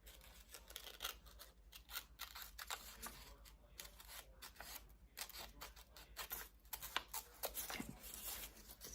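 Scissors snip out bunny ears from old book pages in a quick run of close, crisp cuts with short breaks between.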